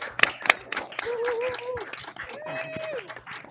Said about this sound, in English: I'm gonna do a short like unmute and clap thing.